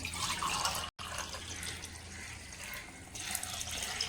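Water being poured into a pot to cook basmati mutton biryani, a steady close splashing pour that breaks off for an instant, then runs on and swells louder near the end.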